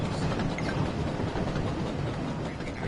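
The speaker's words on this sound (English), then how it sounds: "The train was soon running nicely" A steam engine train from the Thomas and Friends animated series runs steadily along the track, with a dense, continuous rumble and rattle of rolling wagons and no voices.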